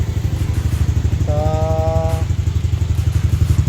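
A Yamaha Aerox V1 scooter with a noisy engine idles close by, giving a steady rough, rattling, pulsing putter with a brief whine partway through.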